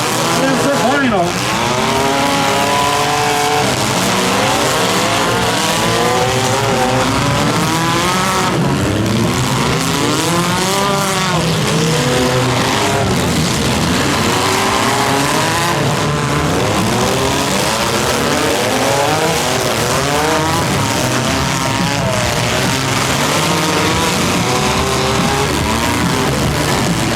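Small cars at a stock mini demolition derby final rev hard, skid and grind into each other continuously, loud engines wailing and tires squealing, with an announcer talking over the din.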